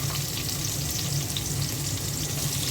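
Chopped onions fry in a pan for a fish bhuna curry, with a steady, dense sizzle that holds evenly from start to finish and has no talk over it.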